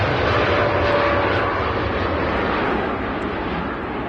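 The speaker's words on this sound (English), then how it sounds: "our next arrival is the, as promised, wide-body Airbus A380" An Airbus A380 wide-body airliner arrives on a wet runway at Manchester Airport, a loud continuous roar of engines and spray that holds steady and fades slightly at the end.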